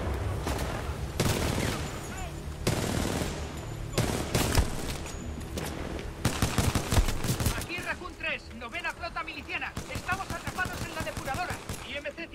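Bursts of rapid gunfire in the video game Titanfall 2, loud repeated volleys with short gaps and softer game sounds between them.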